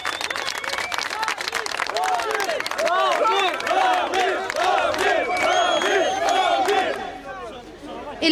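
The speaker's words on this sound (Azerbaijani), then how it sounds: "Ramil Səfərovu Fəxri Xiyabanın qarşısında da böyük izdiham gözləyirdi." A large, dense crowd gathered outside the Alley of Honour in Baku chants and shouts in loud, overlapping waves, with scattered clapping throughout.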